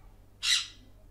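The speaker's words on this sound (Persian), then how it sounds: "اینم از صدای پرنده من" Single short bird squawk, a bright harsh burst lasting about a fifth of a second and standing alone over near silence.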